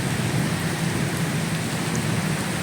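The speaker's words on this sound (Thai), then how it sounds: "นั่งฟังเสียงฝน" Heavy rain pours steadily on a road in Samut Sakhon, Thailand, a dense, even roar of drops with no pauses.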